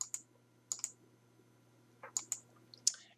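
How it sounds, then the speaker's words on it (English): Short mouse clicks on a computer while working in Adobe Spark, coming in close pairs and singles with pauses between them, crisp and near against a quiet background hum. "So I'm just going to continue to click here,"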